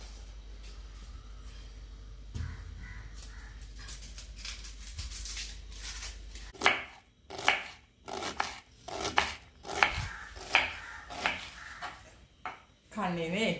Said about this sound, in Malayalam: ഇനി ഞാൻ സബോളയും തക്കാളിയൊക്കെ ഒന്ന് കട്ട് ചെയ്യട്ടെ കേട്ടോ